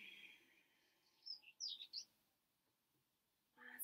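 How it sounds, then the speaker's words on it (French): Small birds chirp faintly in the distance, a few quick high tweets clustered together, then a brief call again near the end, over a quiet background with no talking. "Écoutez les petits oiseaux."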